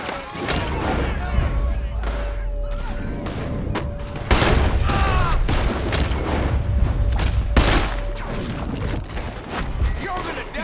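A Red Dead Redemption 2 shootout crackles with repeated loud gunshots in irregular bursts, some sharp and close, others echoing, over a low rumbling background for about ten seconds.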